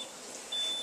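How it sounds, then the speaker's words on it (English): A kitchen timer alarm used during home canning sounds a thin, high electronic beep, briefly audible and then again more loudly over faint background hiss. "Sissy, you were supposed to let me know when the alarm went off."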